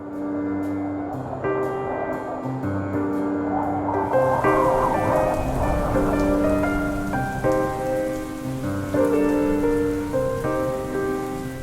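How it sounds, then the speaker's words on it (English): Steady rain falls in the Himalayas of Nepal, loud and continuous with no voices, though the wash is partly mixed with layered tonal music throughout. "I arrived at my lodging just before it began to rain"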